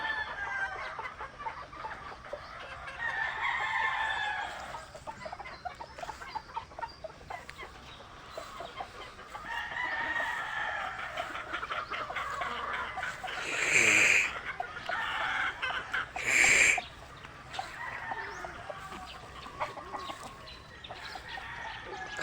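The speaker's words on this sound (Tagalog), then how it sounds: "Magandang manok to." Chickens on a small farm cluck and chatter throughout, with a rooster crowing loudly twice in the later half over steady background noise; no speech.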